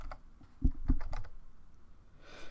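Short burst of keystrokes on a computer keyboard, typing a word into KDE Neon's system settings shortcut search: a few quick, close clicks, two sharper taps and then lighter ones, fairly near and alone.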